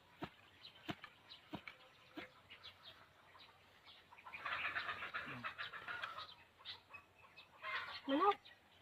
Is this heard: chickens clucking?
yes